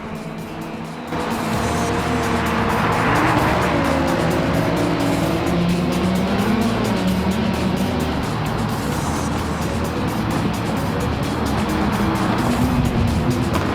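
Audi Quattro Group B rally car from the 1980s driving on a snowy track, its engine roaring loud and close with continuous revving and shifting pitch as it slides, no voices.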